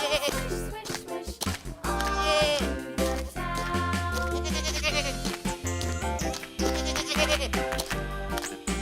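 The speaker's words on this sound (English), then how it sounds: "Sheep." Sheep bleating sound effect, repeated wavering bleats that come loud and close in quick succession, with no talk, from a bowling game that plays animal sound effects.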